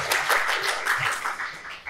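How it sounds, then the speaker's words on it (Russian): Audience applause at a panel discussion on the IT market, steady broadband clapping filling the short moment, moderately loud and continuous with no pauses. "ваш аплодисменты"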